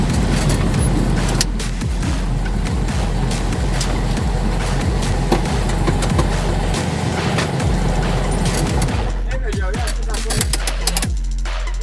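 A 1984 Volkswagen Fusca (Beetle) 1600 on a test drive: steady, loud engine drone and road rumble from inside the car, with a brief dip and shifting tone toward the end.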